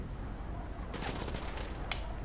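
Gunfire in a video game rings out through thick smoke: a faint, distant cluster of rapid shots, then one more short burst, over a low, quiet background with no talking.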